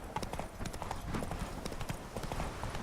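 Horse hooves pound at a gallop in The Witcher 3, a rapid, even run of clip-clops at moderate loudness that carries on without a break.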